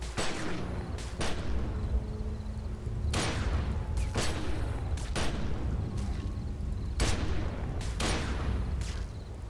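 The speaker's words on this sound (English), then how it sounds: "Why am I shooting at them to destroy them?" Gunfire in Secret World Legends, aimed at rotting carcasses: sharp, loud shots repeat in clusters roughly every second or two over a steady low rumble, with no voices.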